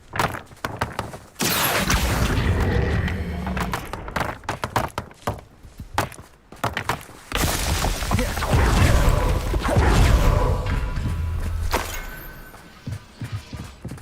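Confringo fire-curse blasts in the video game Hogwarts Legacy, a series of loud, heavy impact bursts with crackling debris, repeating in irregular waves over dense game combat noise.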